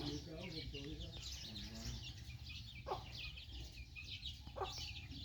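Lao native chickens cluck and make short calls close by in rural Laos, scattered over a low background murmur, with a few sharp knocks in between.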